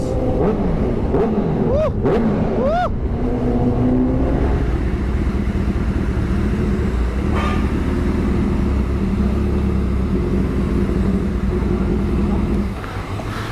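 A Honda CBR1000RR sport bike fitted with a Resfit aftermarket exhaust revs loudly, with a couple of sharp throttle blips early on followed by a steady, droning engine roar mixed with road noise.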